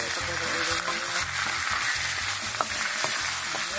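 Chicken pieces go into a hot pot for tinola, setting off a steady sizzle and frying crackle with soft stirring clatter throughout, close and moderately loud.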